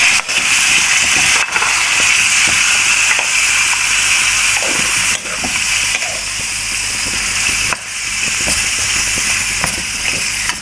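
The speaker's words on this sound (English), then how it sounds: "The ghee is heated up, and now I'm just going to throw it in. And all the marinade also." Marinated chicken and its marinade hit hot ghee in a pan, raising a loud, steady sizzling hiss with bursts of spattering that runs continuously, dipping briefly a few times, with no talking.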